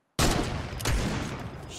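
A sudden loud burst of infantry rifle fire in a shooter game cuts in from silence, rapid close shots blending into a dense continuous volley with a second punch midway.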